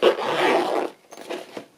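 An old makeup bag holding sewing supplies is zipped: a close, loud zipper pull lasting nearly a second, followed by softer scraping and rustling handling noises.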